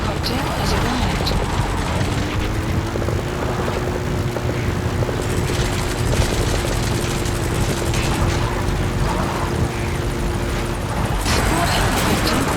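Support helicopter in Metal Gear Solid 5: The Phantom Pain, a loud, continuous rotor and engine roar that holds steady throughout, with voices speaking over it.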